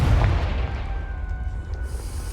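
Confringo fire spell in the Hogwarts Legacy video game bursting with a heavy, booming blast that rolls into a rumbling decay, loud and close with no talk.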